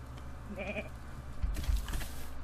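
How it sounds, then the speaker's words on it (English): A goat bleats once in the background, a short wavering call heard faintly over a steady hum and scattered thuds from a survival crafting game. "hear the goat in the background"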